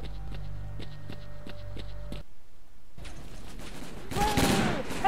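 Rapid gunfire in the Lost Alpha shooter game: a burst of regular automatic shots, a short pause, then more scattered shooting and rumbling clatter, with a voice speaking quietly underneath.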